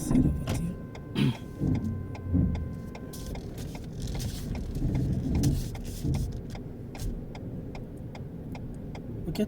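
A car creeps slowly forward during a driving lesson, its low engine rumble steady and close, with faint clicks and small mechanical knocks along the way.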